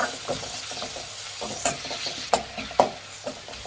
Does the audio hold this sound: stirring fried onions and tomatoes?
yes